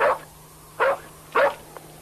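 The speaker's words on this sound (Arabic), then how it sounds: "إنه كلب ذكي لقد أنقذ حياتي" A dog gives three short, sharp barks spaced about half a second apart, moderately loud and close, with a faint steady hum and no talking.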